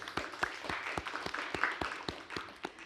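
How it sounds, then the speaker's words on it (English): An audience at a community talk gives a round of applause, with sparse, evenly spaced claps that sound close and moderately loud across the few seconds. "Yeah, round of applause."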